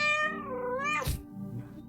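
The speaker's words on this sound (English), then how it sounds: "Oh, a cat. How did you get in?" A cat in a video game lets out a long, drawn-out meow that rises and falls in pitch, followed by a short soft thump, over a steady low background hum.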